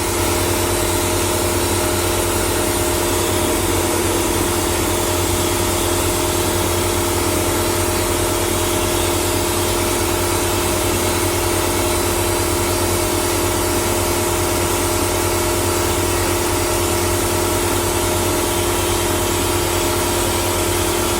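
A DIY vapor blaster with a 3D-printed nozzle sprays slurry and media inside its cabinet, its pump motor droning and the spray hissing in a loud, unbroken steady roar.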